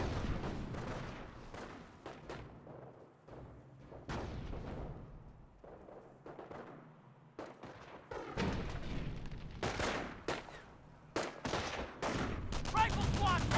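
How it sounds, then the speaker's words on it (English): Dense rifle and machine-gun fire rattles in rapid bursts against a rifle squad in the World War II strategy game Company of Heroes, with booming impacts and a commentator talking over the steady battle noise. "Rifle squad taking fire."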